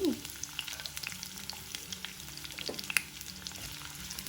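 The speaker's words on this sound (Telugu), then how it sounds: "ఇప్పుడు దానిలో 4 వెల్లుల్లి గబ్బాలు, ఆనియన్స్, ఉల్లిపాయలు వేసి" Four garlic cloves and chopped onions go into hot oil in a pan, with a steady close sizzle broken by a few sharp crackles and the occasional scrape of a spoon.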